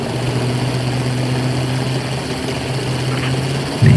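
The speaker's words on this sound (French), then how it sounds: "Mais il y a clairement un truc, c'est un moteur allemand ça." German Maybach tank engine in an armored-battle video game, a steady low droning hum with a constant tonal rumble, running close and continuous with a slight surge at the end.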